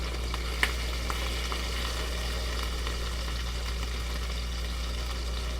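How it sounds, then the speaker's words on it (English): Salmon sears in a hot pan for teriyaki, a steady close hiss of sizzling oil with one sharp tap early on and no voices. "I'm searing salmon"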